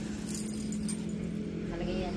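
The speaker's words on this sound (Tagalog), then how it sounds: "Ayan po yung aking susi." Keys jingle with light metallic clinks as they are pulled out of a girl's bag, brief and close, while someone talks over them.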